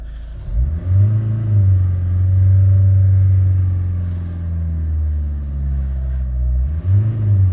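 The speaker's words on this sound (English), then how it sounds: "I'm just going to rev the arse off it." A car engine revs hard, climbing in pitch and holding a loud sustained roar before dropping back and revving up again near the end.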